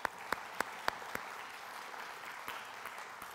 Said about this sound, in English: We'll go ahead and give them a round of applause.